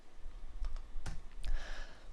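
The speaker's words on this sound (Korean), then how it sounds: "해당하는 항목을 선택한 다음에 키보드의 딜리트 키 눌러서 삭제를 진행할 수 있다" A delete key pressed on a computer keyboard under macOS Big Sur gives a few soft, quiet clicks spread over a couple of seconds, with one sharper tap near the middle and no talking.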